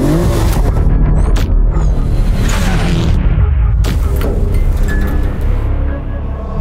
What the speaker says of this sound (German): Heute im Drag Race testen wir endlich mal wieder unseren 1000 PS Abt RS7 gegen seinen kleinen Bruder